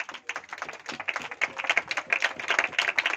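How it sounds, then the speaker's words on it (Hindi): A church congregation claps in a dense, uneven patter that stays steady and fairly loud for a few seconds, with no talking over it. "तालियां हो जाएं"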